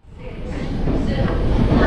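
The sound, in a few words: train departing Haridwar station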